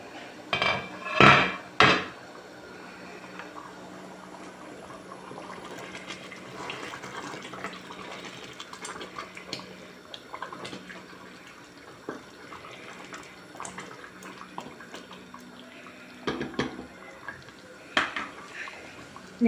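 Spinach stew stirred in a cooking pot, a few loud metallic clanks of a utensil against the pot early and later, over a low steady simmering bubble in a home kitchen.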